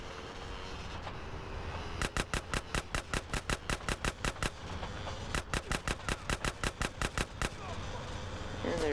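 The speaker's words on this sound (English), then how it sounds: "he gets like 30 headshots on the guys in the next like 3 seconds" Automatic gunfire in the game GTA San Andreas comes as a fast, even string of sharp shots in two long bursts, loud and close over a low background rumble.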